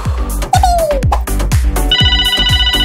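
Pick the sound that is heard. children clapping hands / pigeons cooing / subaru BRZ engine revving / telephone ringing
telephone ringing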